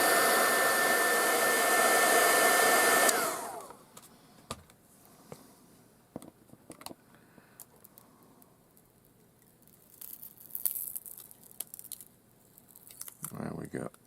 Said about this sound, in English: it involves using the heat gun to melt